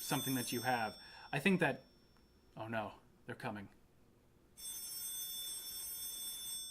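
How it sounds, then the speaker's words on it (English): A telephone rings during an online lecture, a steady electronic trill that starts after a few spoken phrases and carries on alone for about two seconds. "Just kidding, it's the phone."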